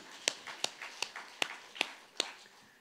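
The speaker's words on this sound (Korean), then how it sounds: "박수로 영광." A church congregation clapping in a slow, rhythmic pattern, about six distinct sharp claps spaced roughly evenly, fairly faint and alone.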